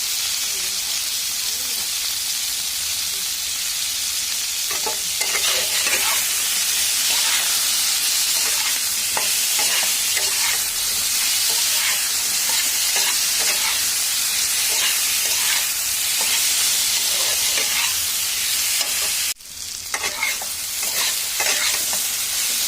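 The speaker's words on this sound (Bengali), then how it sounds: "কলা আলু আমার ভালো করে ভাজা হয়ে গেছে" Plantain and potato pieces frying in a pan for a shol fish curry, a continuous close sizzle broken by repeated stirring scrapes, with a brief dip near the end.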